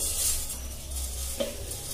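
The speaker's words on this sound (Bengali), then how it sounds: "শুকনো চিড়ে, এটা এর মধ্যে দিয়ে দেবো।" Dry flattened rice being tipped into a hot frying pan and stirred in a home kitchen, giving a soft steady sizzle and rustle with one brief scrape against the pan, close and moderately quiet.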